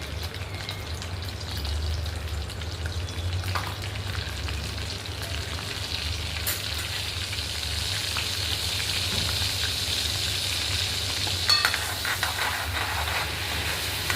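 Cumin seeds and asafoetida sizzle in hot oil, heard as a continuous, even frying hiss with a low steady hum underneath and occasional faint clicks.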